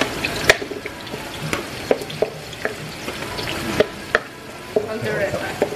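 Garlic and onion sauté in a frying pan with a soft sizzle, while a utensil stirs and taps against the pan in scattered sharp clicks, close by.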